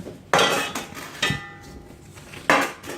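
Metal cake pans knock and clatter as they are handled for a lemon cake, three sharp clanks each with a brief ringing tail, close by and with no talking.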